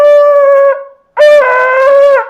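A shofar blast sounds as a short held note, a brief silence follows, then a longer wavering note ends it, loud and close, shevarim notes.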